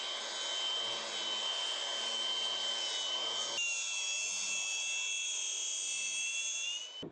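Sanding the spoiler bracket hole in a 2024 Ford Mustang rear decklid panel, a continuous bright abrasive rasp that shifts slightly in pitch midway before stopping abruptly.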